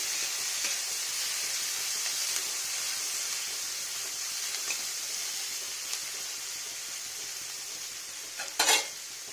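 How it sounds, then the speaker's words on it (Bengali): A constant, close sizzle of garlic and ginger frying with onion in a pan, steady hiss throughout with a quick scrape of a stirring spoon near the end. "এটা একটু ভাজা ভাজা হবে"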